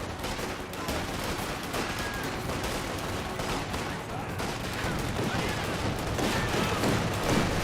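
Dense, continuous gunfire from German Grenadier infantry in the real-time strategy game Company of Heroes 2: rapid overlapping rifle and automatic-weapon cracks form a steady barrage that holds loud for the whole stretch.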